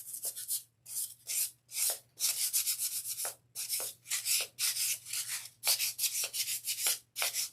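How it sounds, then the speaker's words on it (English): Sandpaper is rubbed along the cut edges of faux macarons for decor, making close, rhythmic scratchy strokes in a steady back-and-forth pattern with brief gaps between passes. "we're going to take our sandpaper again, and we're going to fix our edges because we cut it"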